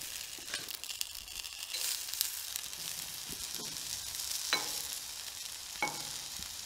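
Three kinds of soaked rice go into a hot, oil-brushed clay pot over medium-low heat, giving a steady soft hiss with a few faint scrapes and rustles, no voices.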